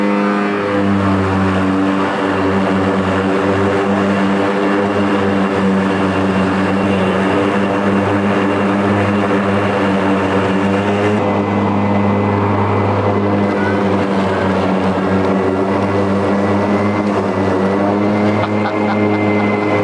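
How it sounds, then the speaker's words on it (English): EGO Z6 42-inch battery zero-turn riding mower running with its cutting blades engaged, giving a loud, steady electric whir and hum that holds evenly throughout, with no talk. "And then we will engage our blades."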